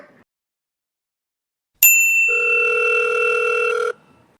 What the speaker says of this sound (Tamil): வா ஃபோன் பண்ணலாம்